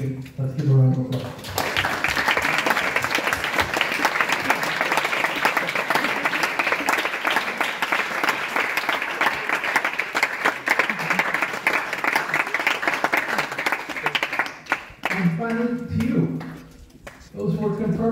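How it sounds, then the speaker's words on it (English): A congregation applauds at a confirmation Mass at Xavier High School in Micronesia, a long, steady round of clapping that swells in after a moment of speech and fades near the end as a voice resumes. "Let's give a round of applause."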